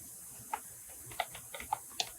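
Someone types a chart title on a computer keyboard: a handful of sparse, faint keystrokes spaced irregularly over a quiet background, with no talking.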